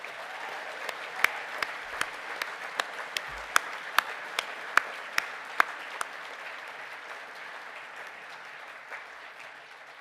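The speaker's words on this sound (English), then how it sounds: "please stand now to receive your applause" Sustained applause fills a graduation ceremony hall as sport and exercise nutrition graduates stand, a dense steady wash of many hands with a few louder individual claps popping out, fading slightly toward the end.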